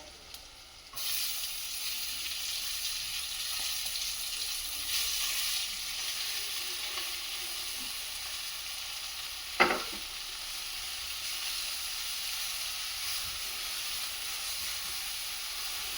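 Spinach hits a hot pan with coriander, cumin, chili and turmeric and starts a sudden loud hiss that settles into steady sizzling, with one sharp clink partway through.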